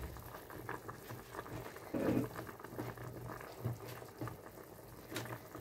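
A seafood soup sauce simmers and bubbles in a pot, a steady soft burble that stays faint and low throughout with no one speaking.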